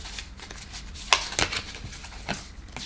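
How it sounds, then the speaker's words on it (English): Oracle cards handled and laid out on a table during a pick-a-card reading: close, brisk papery rustling and light slapping of cards, with a few sharper flicks, no talking. "I'm gonna place three cards in front of me."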